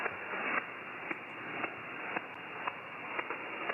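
An inverter battery pack trickle charging makes soft, regular clicks through a steady hiss of radio static, spaced about half a second apart, faint and mechanical.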